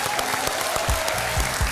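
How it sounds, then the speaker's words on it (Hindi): A studio audience on the TV game show Dus Ka Dum gives a short burst of applause with a few low thumps underneath. "लालू जी के लिए तालियां।"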